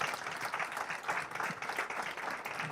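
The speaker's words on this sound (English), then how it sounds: "So a big round of applause for Mr." Audience applause for a keynote speaker at a pitch club event, a dense, sustained patter of many hands clapping across the whole moment, fairly close and even in loudness.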